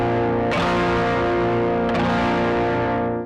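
A two-finger shoegaze guitar chord rings out thick and loud through heavy effects, distorted and chorused with a washy sustain, struck again partway through, then cut off sharply.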